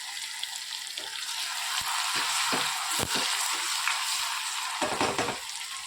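Bay leaf, garlic, green chillies and tomatoes frying in a pan make a moderate, continuous sizzle with a few soft stirring knocks, close by and with no talking.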